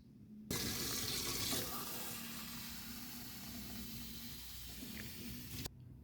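Water pours steadily into a measuring container while mixing a plaster batch for plaster vases. Close, hissing and constant, it begins abruptly and runs for about five seconds before stopping, with no voices.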